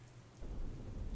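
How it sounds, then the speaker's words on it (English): An abandoned wooden structure collapses somewhere far off, giving a low, muffled rumble that swells in suddenly and rolls on steadily like distant thunder, with no one talking. "It's the collapse of another abandoned structure in the distance"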